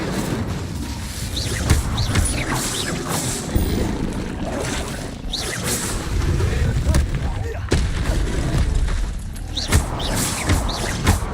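Spell effects from the video game Hogwarts Legacy, with repeated loud blasts, bursts and whooshes from casting Expelliarmus, Incendio and Confringo in a continuous combat flurry.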